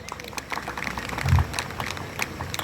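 A hotel ceremony audience applauds welcoming a guest, dense crowd clapping at a steady moderate level with a slightly louder swell midway, no voices heard.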